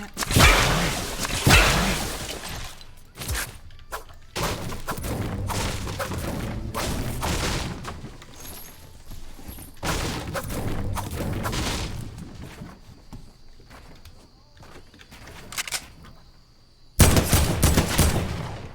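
Repeated sharp gunshots and whip-like cracks from Fortnite, in bursts with short gaps, loud and close, with booming impacts and whooshes between them.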